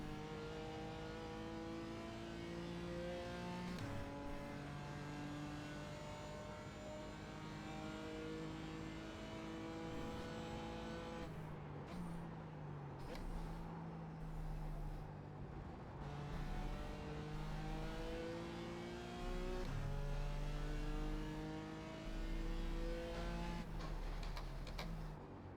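BMW M4 GT4 race car at Silverstone, its engine droning loud and steady throughout with repeated climbing rev sweeps and gear changes, a sustained onboard roar with no talk.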